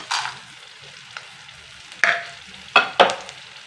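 Peanuts and chana dal frying in a pan of hot oil for lemon rice, a soft steady sizzle punctuated by a few sharp bursts of crackling and spatter as pieces hit the pan.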